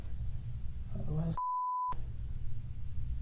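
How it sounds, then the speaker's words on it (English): A single loud, steady electronic censor beep lasting about half a second, cutting sharply into a streamer's background noise and faint voice. "Beep."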